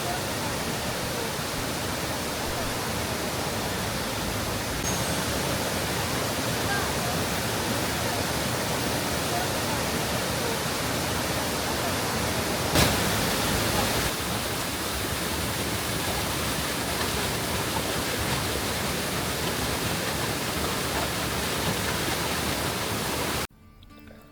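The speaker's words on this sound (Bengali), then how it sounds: "আমরা ফলসের জলের খুব কাছে চলে আসলাম এবং খুব কাছ থেকে রাবানা ফলসের সৌন্দর্য উপভোগ করলাম" Ravana Falls in Ella, Sri Lanka pours in a steady, loud roar of rushing water, heard from close by. The dense wash holds evenly throughout with no voices, then cuts off abruptly at the very end.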